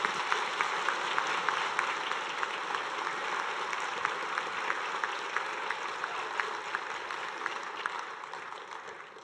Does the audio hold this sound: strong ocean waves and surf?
no